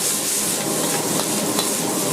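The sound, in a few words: stir-frying cauliflower with scallions in a wok over high heat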